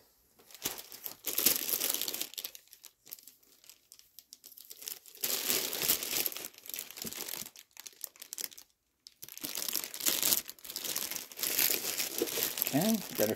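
Tape and packaging are peeled and crinkled while unboxing a TD-3-MO, with close, loud bursts of crackling and tearing separated by brief pauses.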